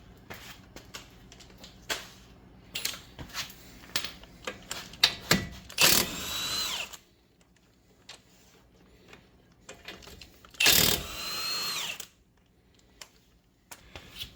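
An impact wrench works the 22 mm strut bolts on a 2007 Toyota Camry during a front strut replacement, firing in two loud bursts of roughly a second each, separated by quieter clanks and ratcheting sounds of tools, with no talk.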